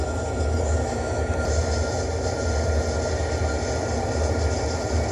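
A locomotive decouples in the Trainz railway simulator game, heard as a steady, loud rolling rumble of rail cars with faint metallic wheel tones running throughout and no speech.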